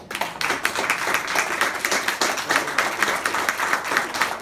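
Audience applause, dense and sustained clapping from a crowd, steady and fairly close throughout.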